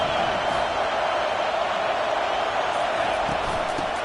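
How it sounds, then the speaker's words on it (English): A large stadium crowd at a Penn State versus USC college football game roars steadily on a third-down defensive stand, a dense, sustained wall of cheering and noise that holds at full volume throughout. "Decibels rising as the crowd gets behind this defense on 3rd down."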